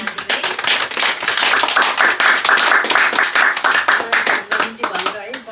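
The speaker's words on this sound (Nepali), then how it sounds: "मलाई ताली बजाएर धन्यवाद दिनु" Clapping from a church fellowship congregation, with sharp, uneven hand claps rising to a full round and then tapering off, while voices carry on underneath.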